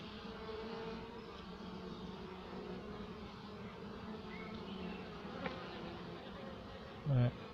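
Honeybees buzz around a weak nucleus hive, a soft, steady drone close by with a brief louder thump near the end.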